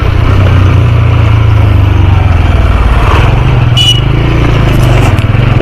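A motorcycle engine drones loudly and steadily throughout, a continuous low rumble as the bike rides along.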